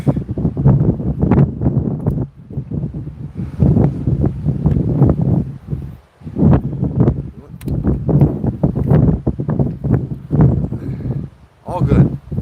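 Gusty wind buffets the microphone in low rumbling bursts while a person talks continuously over it, close and loud.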